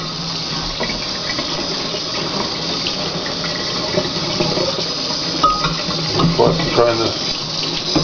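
Tap water runs steadily into a sink while a horseradish food processor's parts are rinsed clean, a continuous close splashing with some clatter of the pieces, and a person speaks over it.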